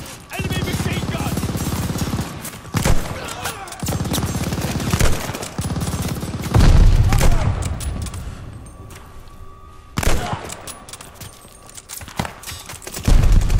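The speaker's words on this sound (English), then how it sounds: "Enemy machine gun." Enemy machine gun fire in the WWII shooter Call of Duty Vanguard during a train heist mission, rapid bursts of loud gunfire rattling repeatedly with dense battle noise in between and a voice or two underneath.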